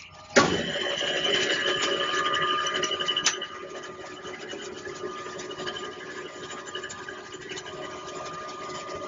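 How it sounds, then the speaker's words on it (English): Metal spinning lathe starting up to spin a lubricated copper sphere, a sharp start-up knock followed by a steady whirring hum with faint scraping tones, close and continuous, easing slightly in loudness after a few seconds. "he's going to turn this machine on, lube that piece up, and spin a copper sphere for us."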